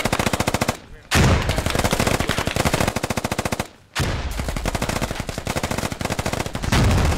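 Sustained automatic small arms fire rattles in rapid bursts during a squad-based military shooter battle, loud and close, with two brief pauses between long volleys.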